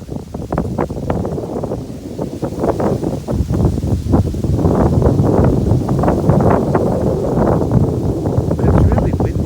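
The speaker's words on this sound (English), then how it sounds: "But it's really windy." Strong wind buffets the microphone by the water on a cool evening, a steady loud rumble and gusting roar that swells after a few seconds and holds, with voices talking faintly underneath.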